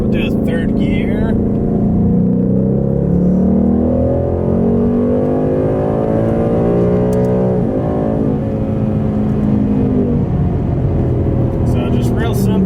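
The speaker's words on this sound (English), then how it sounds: "do a couple partial throttle pulls, and then we'll get to do a wide open throttle pull" A Ford Mustang does a wide-open-throttle pull in third gear, its engine roaring loud and steady as the pitch climbs through the gear for about twelve seconds, with no talk over it.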